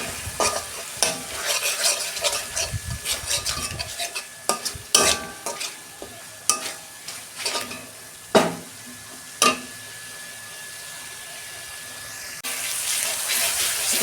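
Spices with salt and turmeric sauté in a pan, with a steady sizzle and repeated distinct scrapes and taps of a spatula, close up, ending in a louder hissing rush.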